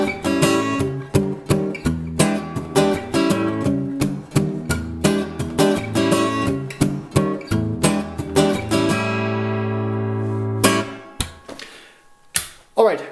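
An acoustic guitar plays the chord pattern from a song in a lesson, with crisp rhythmic strums in a steady groove, then a long ringing chord that fades, followed by a couple of final strikes.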